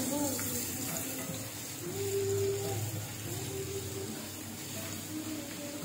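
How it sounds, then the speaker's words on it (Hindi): Crushed garlic fries in a small amount of oil in a pan, giving a soft, steady sizzle with faint stirring, close and low in level. "तो लहसुन को हमने अच्छी तरह से फ्राई कर लेना है।"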